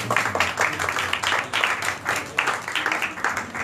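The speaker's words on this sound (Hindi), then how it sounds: "खुदा के खादिम के लिए और खुदा के कलाम के लिए जोरदार ताली।" Congregation claps for a pastor at a Tuesday church meeting, the clapping arriving in uneven bursts that swell and ease across the few seconds, with murmuring voices under it.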